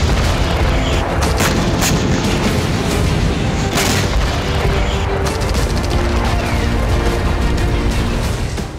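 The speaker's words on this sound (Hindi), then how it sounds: "टैंक आर्टिलरी तोपों से भीषण प्रहार किया जा रहा है" Tank and artillery fire in Kherson during the Russia-Ukraine war comes through as a dense, loud barrage of deep booms and sharp cracks, continuous and heavy across the whole stretch with no clear speech.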